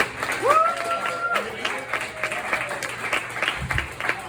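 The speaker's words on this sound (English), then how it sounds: "Start clapping right now." Comedy show audience applauding at a small venue, steady crowd clapping and some cheering throughout while the host talks over it.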